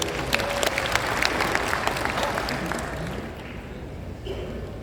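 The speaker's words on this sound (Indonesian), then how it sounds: "tepuk tangan untuk beliau" Applause from a seated audience at an official Indonesian ceremony welcoming a newly installed head of quarantine, a steady wash of many hands clapping that gradually thins and fades, with a speaker's voice amplified over it.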